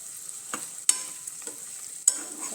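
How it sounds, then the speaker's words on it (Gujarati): Leftover stuffing masala for bharela ringan, stuffed brinjal, sizzles softly in oil in a pot, a faint steady hiss broken by a few sharp spoon scrapes and clinks, with no voices. "આ જે વધેલો મસાલો ઉમેર્યો હતો તે પણ તેલમાં સારી રીતે સતળાઈ ગયો છે"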